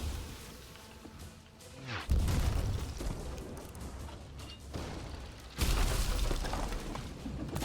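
Ship cannons fire in a sloop battle game: two heavy booms land a few seconds apart, each followed by a lingering rumble, over a quiet background.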